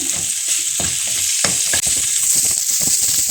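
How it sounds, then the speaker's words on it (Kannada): Onions fry in a pan while being stirred, producing a loud, close sizzle layered with quick scraping and tapping strokes from the spatula, with no speech. "ಒಂದೇ ಇಷ್ಟೆಷ್ಟು ಈರುಳ್ಳಿ ಅಷ್ಟೇ. ಅದನ್ನು ಚೆನ್ನಾಗಿ ಫ್ರೈ ಮಾಡ್ಕೊಳ್ಳೋದು"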